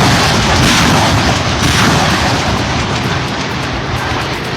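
A HIMARS light multiple rocket launcher fires rockets in a dense, roaring salvo, loud and sustained booms and rushing blast noise filling the whole stretch before easing slightly toward the end.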